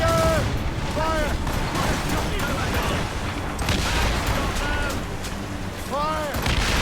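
Cannon fire during a naval battle in Assassin's Creed Rogue, a dense, continuous roar of booming shots under loud shouting voices.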